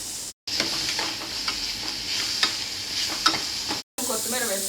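Chopped green chillies being stirred into a peanut chaat (beach mixture), giving a steady, close scraping and rustling mix that runs continuously with two very brief breaks.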